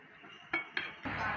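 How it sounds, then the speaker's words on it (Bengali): A utensil cuts egg and flour pitha into pieces on a plate, making two sharp clinks against the dish followed by a short scraping clatter, close and moderately quiet. "এখন আমি এটি পিস পিস করে কেটে নেব।"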